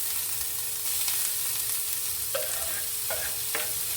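Onion fries lightly in a pan with a steady, close sizzle, while a spoon gives a few sharp scraping stirs near the end. The frying is being done for black kavuni rice porridge, and no one speaks.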